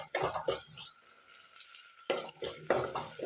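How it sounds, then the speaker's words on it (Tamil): Onions and vegetables sautéing in a pan for a village-style drumstick curry, a soft close sizzle with spatula scrapes in two bursts separated by a quieter pause. "இன்னும் கொஞ்சம் தான் வதங்கணும் வதங்கிடும்"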